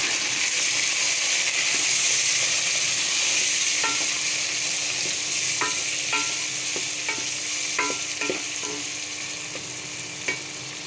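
Chopped tomatoes frying in a pan for chana dal, a steady close sizzle with scattered spoon scrapes and clinks through the middle, gradually easing slightly in level.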